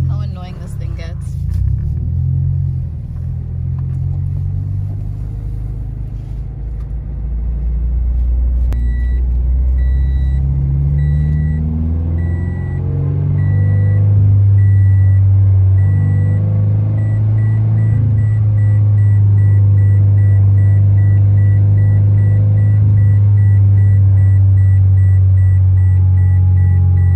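Unbuckled-seatbelt warning chime in a 2019 Toyota 86 while driving: evenly spaced, repeating high beeps over steady low road and engine rumble inside the cabin.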